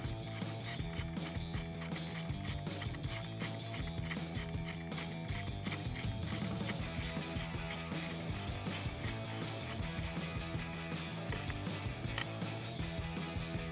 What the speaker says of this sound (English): tighten that back down, again using our 13 millimeter socket and our ratchet